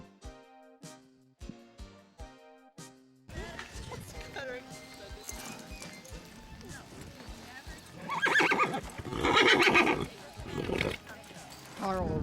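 Hooves clip-clop in a short run, then horses whinny loudly and repeatedly over a busy, noisy background of fast roping action in the South Dakota Badlands.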